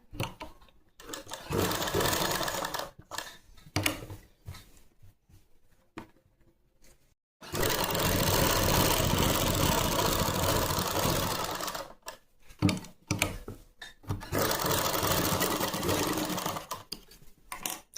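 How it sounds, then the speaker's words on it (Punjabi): A sewing machine stitches a pocket onto palazzo fabric in rapid mechanical runs. Several bursts of varying length are separated by short pauses, with one long steady run in the middle, all close and loud. "ਫੈਬਰਿਕ ਨੂੰ ਅੰਦਰ ਵਾਲੀ ਸਾਈਡ ਫੋਲਡ ਕਰਨ ਤੋਂ ਬਾਅਦ ਆਪਾਂ ਇੱਕ ਸਲਾਈ ਇੱਥੇ ਲਗਾਵਾਂਗੇ"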